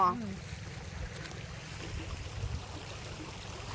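Water flows along a large irrigation canal as a steady, continuous low rush close by, with a brief voice at the very start.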